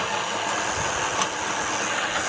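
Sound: water pump motor running

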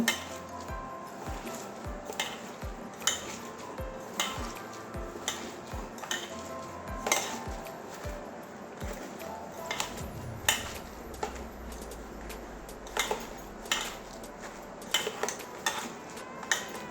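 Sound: mixing gram flour into grated pumpkin for fritters

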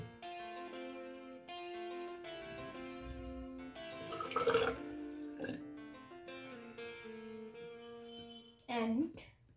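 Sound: water poured into a measuring cylinder

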